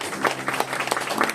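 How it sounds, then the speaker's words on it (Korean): An award ceremony audience gives congratulatory applause as a medal is presented, a short, dense burst of clapping heard close and fairly loud. "다시 한번 축하 박수 부탁드리겠습니다"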